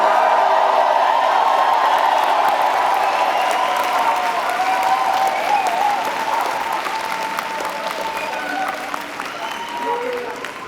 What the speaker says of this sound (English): Cheer really loudly, let it all out